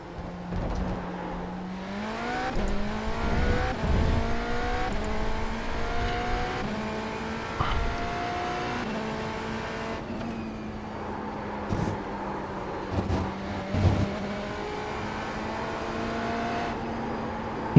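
A BMW GTP race car in a racing video game revs hard through repeated upshifts, its engine pitch climbing and dropping again and again, loud and steady with no talking.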